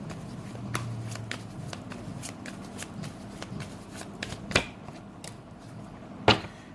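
Tarot cards being shuffled by hand in a quiet room, a steady run of soft riffling flicks with two sharper snaps of the deck standing out near the end, no voices.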